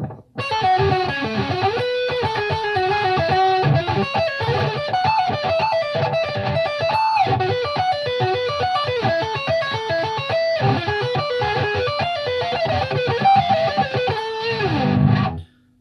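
Dean Razorback 255 seven-string electric guitar on its middle pickup through distortion, playing a loud, continuous riff of chugging palm-muted notes and sustained chords, close and alone with no talk, ending with a final ringing chord.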